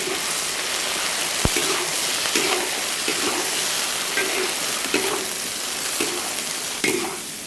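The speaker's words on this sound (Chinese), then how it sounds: "倒花菜了" Cauliflower tipped into a hot wok with cured pork and stir-fried, a loud steady sizzle with intermittent scraping and tossing of the spatula, close and continuous.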